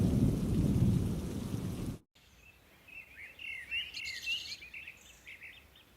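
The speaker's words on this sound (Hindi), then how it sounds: "जिसे केवल बाहर गिरती बारिश की आवाज तोड़ रही है" Heavy, steady rain roars loudly for a couple of seconds, then cuts off abruptly, leaving quiet outdoor ambience with birds chirping in the distance.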